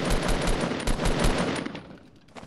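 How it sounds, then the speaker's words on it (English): Rapid bursts of automatic gunfire in a Fortnite Battle Royale duo match, loud and close for about two seconds before tapering off into a few fainter shots. "just keep shooting"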